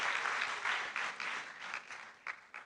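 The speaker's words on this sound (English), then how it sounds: "You can give a round of applause to that" Audience applause at a pharmacy school's maiden white coat ceremony, a broad steady wash of clapping that fades in waves, with a few sharper claps near the end.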